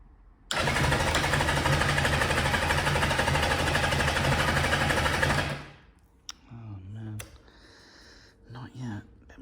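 A Kawasaki Zephyr 750 under restoration, with a spark fault and a choke that won't stay on, cranks loudly and steadily for about five seconds at ignition without catching, then falls quiet apart from a few handling noises.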